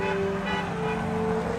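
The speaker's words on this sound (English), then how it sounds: "there's a lot of people that are honking in support" Road traffic passes a protest outside a Detroit TV station, with a steady, sustained car horn honk held over a continuous wash of engine and roadway noise, fairly close.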